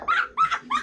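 A dog gives three short, sharp barks in quick succession, close and fairly loud, each bark yelping and rising slightly in pitch, with no other sounds.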